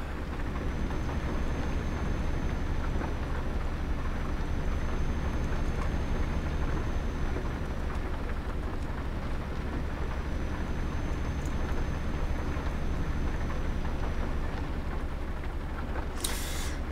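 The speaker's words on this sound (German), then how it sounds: "Der Regen hat sich aber auch echt festgesetzt hier." Steady rain in the video game Euro Truck Simulator 2 hisses without pause under a low, constant truck rumble, with no voices.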